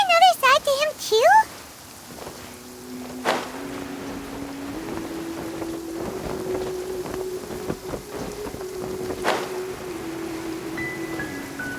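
Heavy rain pours steadily in the video game Genshin Impact, a dense hiss of downpour with a couple of sharp thunder-like cracks, while a sustained musical tone and brief voice sounds sit over it near the start.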